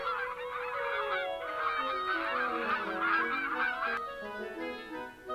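A flock of geese honks continuously, many overlapping calls in a busy, steady chorus, used as a sound effect in a fairy tale about swan-geese carrying off a boy.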